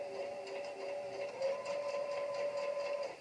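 Domestic sewing machine running steadily while stitching a seam with a gathering foot, a continuous close mechanical whir with a soft rhythmic pulse throughout.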